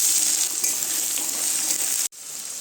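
Onions fry in oil tempered with garlic, a steady bright hiss of sizzling close by that cuts off abruptly near the end before resuming more faintly.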